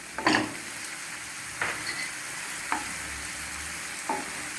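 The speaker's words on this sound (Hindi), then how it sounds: "इसको हमें लगातार चलाते हुए इसको भूनना है अच्छी तरह से" Masala roasting in a pan under a continuous low sizzle, broken by four short scraping stirs of a spoon spaced about a second apart, close and quiet, with no voices.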